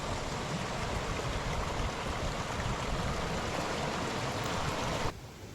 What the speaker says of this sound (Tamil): இப்படியே இங்கேருந்து அந்த கீழே வரைக்குமே ஃபுல்லாகவே தண்ணி போகிறது அந்த பாறைக்கு மேலே